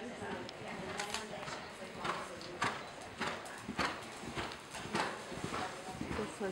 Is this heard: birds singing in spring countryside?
no